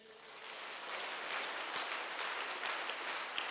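A church congregation applauds at a Malayalam retreat led by Fr George Panackal, a steady, fairly soft wash of many hands clapping that swells slightly and continues without a break.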